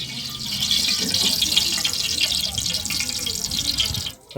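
Ghee pours into a large pot of Dindigul-style mutton biryani for twenty, a continuous close liquid stream with a soft sizzling hiss that cuts off abruptly near the end.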